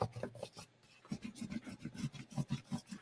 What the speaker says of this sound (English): I would personally use lighter colors first to do that lighter crayon rub.